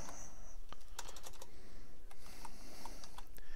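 Rapid clicking of keys on a computer keyboard, a quick irregular burst of keystrokes close up against a faint room hiss, no speech.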